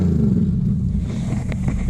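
A car engine idles low and smooth, then blips upward in a couple of short revs to almost 4,000 RPM through a deep dual-exhaust rumble.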